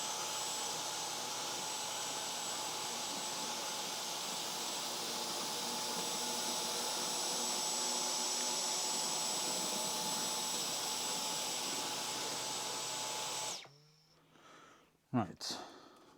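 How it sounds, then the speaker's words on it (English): A Dyson power mop runs on its low setting with a steady, even motor whine and airflow hum that holds for most of the stretch, then cuts off abruptly, followed by a few brief handling knocks. "Okay, so I got this on low setting on the Dyson."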